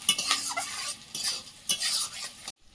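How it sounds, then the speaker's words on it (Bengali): Onions frying in white oil and ghee in a wok while cooking Kashmiri chicken, with a steady sizzle broken by several sharp scraping stirs of a utensil, close and fairly loud, before cutting off abruptly. "পেঁয়াজটা একটু ভাজা ভাজা হয়েছে"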